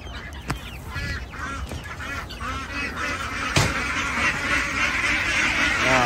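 A flock of farm ducks quacks continuously nearby, many overlapping calls in a busy, loud chorus from a duck shed area, with a brief clatter midway.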